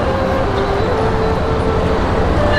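The Argo Sindoro train pulls into a station with a steady, loud mechanical rumble and a faint sustained whine throughout, with no other sounds standing out.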